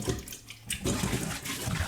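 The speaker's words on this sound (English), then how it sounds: "Pour some water on the chicken." Tap water splashes steadily over raw chicken in a kitchen sink, loud and close, with a short quieter dip before the full gushing flow resumes.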